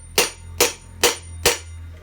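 Four sharp, evenly spaced hammer strikes on a metal socket to drive out a motorbike front wheel bearing, close and ringing briefly, each blow followed by a short decay.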